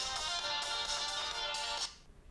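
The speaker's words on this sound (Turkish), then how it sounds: "Direkt olarak telefonu çaldırıyor." Phone ringing after being triggered from a Sony Smartwatch 2, a bright electronic ringtone repeating in short pulses for about two seconds before cutting off, close and alone.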